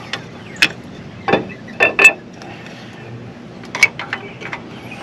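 Jeep Wrangler (2014) axle shaft sliding back into the axle housing, with scattered light metallic clinks and scrapes, a few sharper knocks spaced irregularly over a quiet background.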